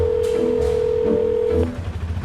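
A steady telephone ringback tone sounds for about a second and a half while calling from an auto-rickshaw, with soft background noise underneath, then stops.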